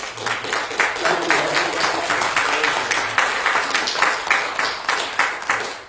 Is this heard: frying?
no